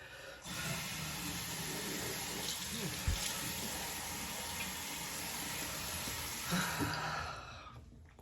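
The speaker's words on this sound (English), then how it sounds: "Excuse me while I wash my face." Water runs steadily from a sink tap while someone washes their face with a cleanser. The splashing is continuous and fairly close, with a couple of brief louder splashes and no talking.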